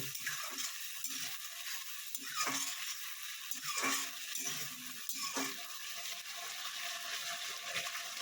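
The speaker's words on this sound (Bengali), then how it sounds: "সে আদা কাঁচা লঙ্কা বাটাটা আমি দিয়ে দেবো। দিয়ে এটাকে একটু কষে নেব।" Ginger and green chilli paste frying with water spinach and prawns in a pan, a steady close sizzle with intermittent stirring scrapes over about eight seconds.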